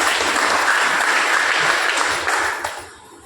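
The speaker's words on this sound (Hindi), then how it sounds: "फंड इनकम के लिए जोरदार ताली हो जाती है" Strong, sustained audience applause at a business-plan seminar, dense clapping that holds steady then fades out over the last second.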